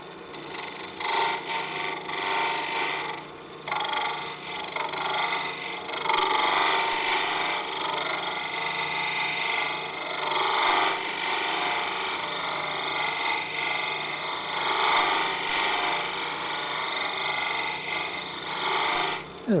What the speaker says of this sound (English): got one more thing to do here, and that is to round over this edge